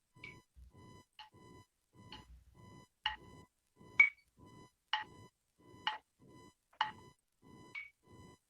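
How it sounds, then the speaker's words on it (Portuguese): Steady metronome beeps tick evenly on their own, about one per second, with the first beat of each cycle noticeably higher in pitch. "O bip mais agudo é o primeiro tempo."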